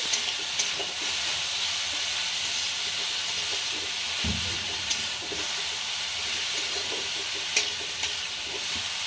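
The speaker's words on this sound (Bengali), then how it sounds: "এবার ঘিয়ের সঙ্গে গাজরটা আমি সুন্দর করে লাল করে ভেজে নিব।" Carrots fry in ghee for gajar halwa with a steady, close sizzle and hiss throughout, broken by a few light stirring clicks and one soft thump.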